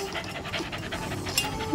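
A puppy pants rapidly and steadily at close range, quick breathy puffs running throughout with no talking over them.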